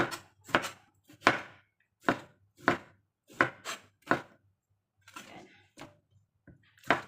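Tomatoes chopped with a large knife on a board, about a dozen crisp, close thuds in an uneven rhythm with short pauses, no talking.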